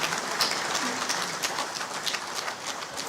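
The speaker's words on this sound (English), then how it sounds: "Let's applaud him one more time." Audience applause at a national council meeting on innovation, science and technology, a steady wash of many hands clapping at even loudness throughout, with no voices over it.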